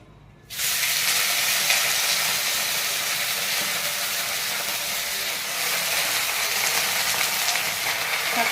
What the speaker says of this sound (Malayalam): ഈ ഇല ഒന്ന് ഫസ്റ്റ് വഴറ്റിയെടുക്കുവാണേ